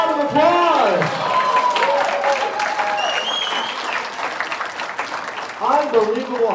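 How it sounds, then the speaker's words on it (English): Audience applause fills a hypnosis talk show, steady clapping throughout with voices and a few whoops and shouts rising over it, loudest at the start and again near the end. "give a round of applause"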